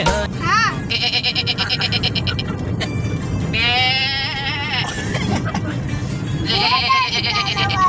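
Sheep bleat loudly in repeated wavering calls, several overlapping cries close by, over a busy background of voices and outdoor noise.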